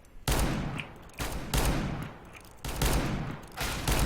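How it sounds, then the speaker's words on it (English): Gunfire in the video game CS:GO, with bursts of loud, rapid shots in several clusters, close and punchy, and no talk over them. "I can hear those bullets whizzing past my face."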